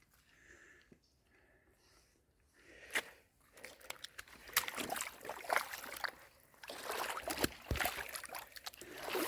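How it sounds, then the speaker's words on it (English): Boots slosh and squelch through muck and shallow water on the Appalachian Trail, wet crunching steps coming close and irregular, growing louder after a quiet start. "taking our first steps in the muck and mire"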